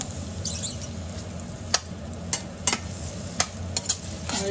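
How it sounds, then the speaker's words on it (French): Garlic and onion sautéing in a pan for a courgette gratin give a steady soft sizzle, broken by sharp scattered clicks and scrapes of a utensil stirring against the pan, close and without voices. "on va bien faire revenir l'ail et l'oignon"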